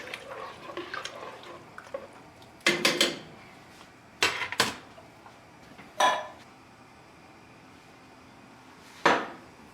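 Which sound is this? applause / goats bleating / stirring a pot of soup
stirring a pot of soup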